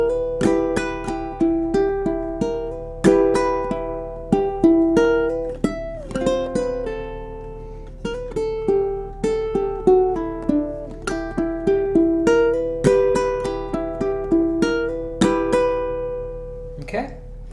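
Ukulele playing the theme from The Munsters at a slow tempo, distinct plucked notes and chords in a steady, unhurried melody, close and clear with no talking.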